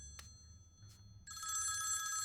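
In a Hindi-dubbed film scene, a telephone starts ringing with a bright, rapid electronic trill after a couple of soft taps, loud and continuous to the end.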